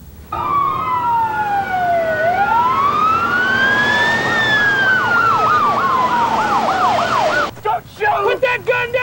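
Emergency vehicle siren sounding loud and close, sweeping up and down in a long wail, then switching to a fast yelp before cutting off into short bursts.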